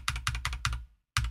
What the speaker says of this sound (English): holding down shift and tapping spacebar